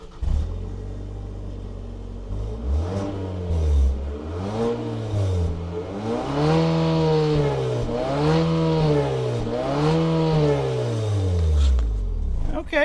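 An Infiniti QX55 with its 2.0 VC-Turbo engine and bumper-mounted metal exhaust revs repeatedly in rising and falling sweeps, giving a smooth, close, moderately loud engine note with a brief voice at the start.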